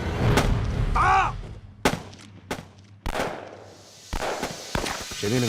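Rifle shots crack out in a wartime battle against Japanese troops, several loud separate bangs with short gaps between them and a muffled shout or two in the background.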